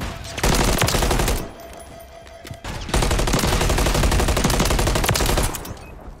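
Rapid automatic gunfire from a Call of Duty: Modern Warfare 3 multiplayer match, loud bursts filling the opening second and again through most of the clip, separated by a quieter gap.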